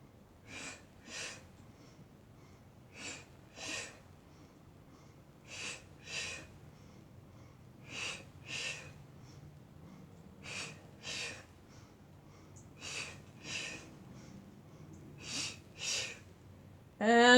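Close, breathy exhalations during a crisscross core exercise with hands behind the head, coming in paired puffs that repeat at a steady rhythm with quiet gaps between.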